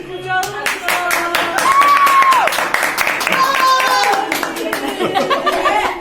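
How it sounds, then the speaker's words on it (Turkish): An audience claps at a live microphone comedy show, in sharp, close, uneven claps that continue throughout, mixed with chuckles, crowd murmur and a brief high whistle. "Alkış."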